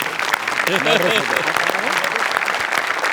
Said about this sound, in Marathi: यासाठी जोरदार टाळ्या झाल्या पाहिजे.